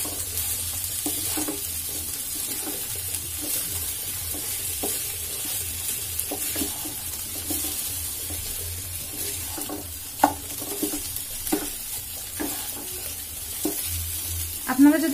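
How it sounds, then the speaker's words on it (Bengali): Rice stirred and fried in a pan for vegetable chicken pulao crackles with a continuous sizzle, while periodic scraping strokes of the spoon recur every second or so, close and moderately loud. "এটাকে খুব ভালোভাবে আমি এখন নেড়ে চেড়ে ভেজে নিব"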